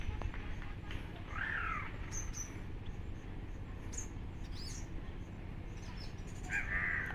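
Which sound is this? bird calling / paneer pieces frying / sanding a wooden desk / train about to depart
bird calling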